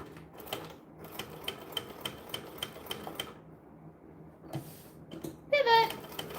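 A sewing machine stitches a bag in a run of rapid, evenly spaced mechanical clicks and thumps, pausing briefly before short bursts resume, with a faint hum beneath and a louder clatter near the end.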